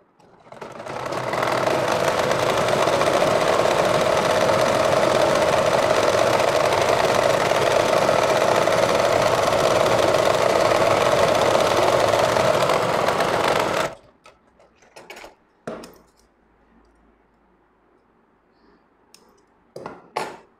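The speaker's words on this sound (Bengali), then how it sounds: "এখন লাস্ট বর্ডার সেলাই দিচ্ছি।" An electric sewing machine stitching the final border of a frock runs in one long continuous whir for about fourteen seconds, then stops, leaving a few faint clicks and handling noises.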